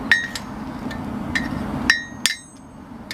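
Hot steel is hammered on an anvil while forging a knife from a bearing race, a few sharp ringing metallic strikes spaced irregularly over steady shop background noise.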